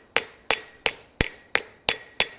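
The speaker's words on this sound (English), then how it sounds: "this hammer that I'm using has a nice radius face to it, a really nice round face" A ball peen sinking hammer with a rounded face strikes metal while forging a hook tail ladle, seven sharp ringing blows in an even, steady rhythm, close and clear with no talk.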